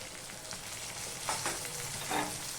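Ginger paste sizzling in a pan with fried onions and garam masala, a steady close hiss with a few brief louder bursts of stirring, no voices.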